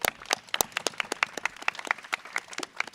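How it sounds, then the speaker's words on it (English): Scattered hand claps from a small outdoor gathering at a Brooklyn Botanic Garden community greening award event, sharp and uneven, fairly soft and spread across a few seconds. "Can we give them a round of applause for that?"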